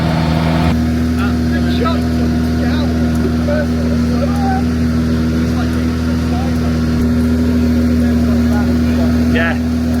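A powerful Dacia Sandrider off-road rally car engine roars steadily and loudly, with a deep rumbling drone and occasional rattles as the vehicle drives along.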